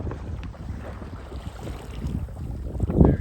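A westerly wind blows while sailing on a mountain lake, buffeting the microphone with low, uneven rumbling gusts and soft water sounds that build toward the end.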